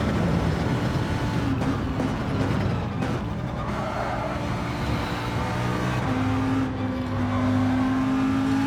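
A Citroen race car engine in Gran Turismo 7 holds a loud, steady drone with a rising, whining pitch, heard alone without talk.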